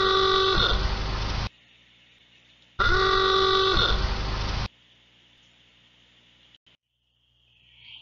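A car horn sounds twice in long, loud blasts separated by a pause, then quiet background.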